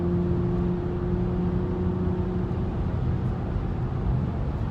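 A Porsche Macan Turbo engine in sport mode gives off a steady, close hum and drone, holding an even level with a faint tonal whine throughout.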